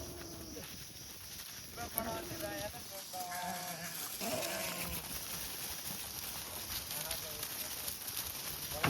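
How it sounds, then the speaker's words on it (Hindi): A herd of domestic goats and sheep bleats in a forest pasture in cold, windy weather, with several overlapping calls of varying pitch over steady wind and background noise, and a voice talks intermittently. "ये देखिए सब बकरियाँ आ गई हैं।"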